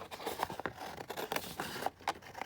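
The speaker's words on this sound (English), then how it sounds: "let's trim this down" Scissors trim paper for a junk journal made from a 12 x 12 paper pad, giving a series of soft, close snipping cuts in an irregular rhythm.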